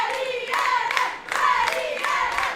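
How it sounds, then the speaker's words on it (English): A crowd of local Portuguese spectators claps and cheers at a Portugal women's rugby sevens match at the Algarve 7s after a try, loud sustained applause in rhythmic swelling bursts with shouting mixed in. "Not sure if you can hear the crowd are really picking up here"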